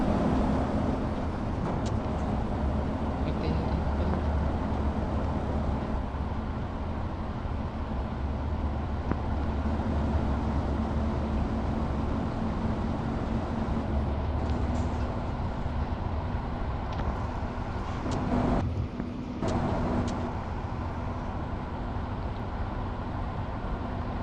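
A truck in a driving simulation game cruises along a highway at night, its engine a steady, continuous drone with a low rumble that stays even throughout.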